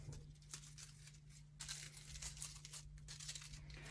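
Faux berry sprigs for an evergreen wreath are pulled and torn apart in short crinkly, rustling bursts, close and fairly quiet, with a low steady hum underneath.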